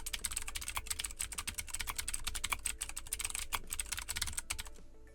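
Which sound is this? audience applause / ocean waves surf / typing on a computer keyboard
typing on a computer keyboard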